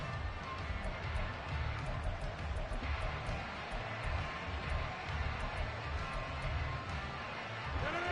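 A stadium crowd at an NFL game between the Broncos and Jets keeps up a constant, distant roar of cheering and noise, loud and unbroken throughout.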